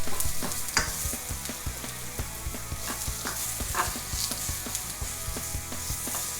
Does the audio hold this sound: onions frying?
yes